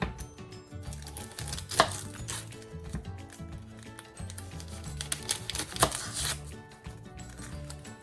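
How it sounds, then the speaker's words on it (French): A kitchen knife chops an onion on a board in quick, uneven bursts of crisp taps, close and clear with no talk over it. "je vais couper l'oignon"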